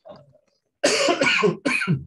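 A faint breathy sound, a brief pause, then a few harsh, loud coughs in quick succession close to the listener.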